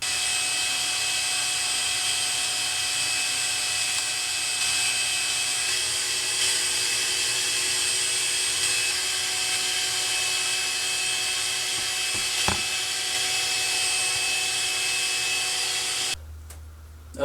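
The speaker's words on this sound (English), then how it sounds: "Now what we're going to do is kick the vacuum on, and we're just going to let it run while we do this" A vacuum drones loudly and steadily while a drill spins Linteater rods during dryer vent cleaning, a continuous whine with a brief knock near the end before the noise drops.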